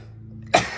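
A single sharp sneeze bursts out abruptly after a moment of quiet, loud and close, with a breathy trailing exhale.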